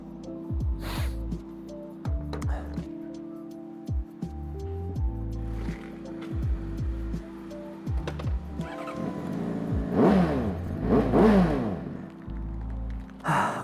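A new 2025 Honda CBR600RR motorcycle riding hard during break-in, its engine revving up and down through repeated gear changes, loud and close with rising and falling pitch sweeps and wind rush.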